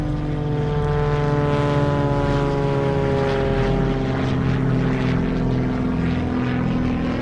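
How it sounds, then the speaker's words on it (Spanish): A light propeller airplane drones overhead, its steady engine hum and buzzing airscrew holding loud and even with a slight rise and fall in pitch as it passes. "vio pasar una avioneta surcando el aire sobre él."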